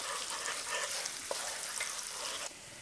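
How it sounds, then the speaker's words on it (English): Chopped onion fries in a hot oiled pan for keto jerk chicken and cauliflower rice, giving a steady, close, broadband sizzle with a few brief stirring clicks and no talk. "we're going to add 1/4 cup of chopped onion. And we're going to cook that another 4 minutes until it's nice and translucent"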